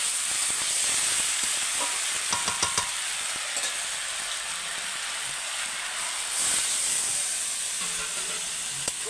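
Water poured into a hot pan of frying vegetables and potatoes, bursting into a loud, sustained hiss and sizzle with occasional scraping stirs and clinks of a utensil, close up and alone.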